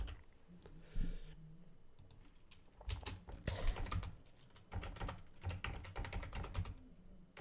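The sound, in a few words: typing on a computer keyboard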